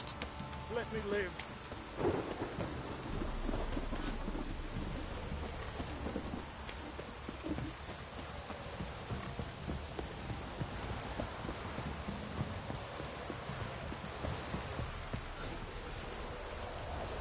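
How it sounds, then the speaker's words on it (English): A heavy rain and thunder downpour in a video game: steady hiss of rain on surfaces with rumbling thunder, loud and continuous, with brief muffled voice sounds early on. "This downpour's a bastard, it is."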